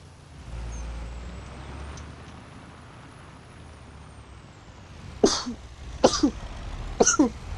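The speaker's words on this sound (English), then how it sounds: "I don't get how I sneeze that much" Three sharp sneezes burst out in quick succession at close range near the end, following a quiet stretch of outdoor background hum beside a pickup truck at a landscaping job.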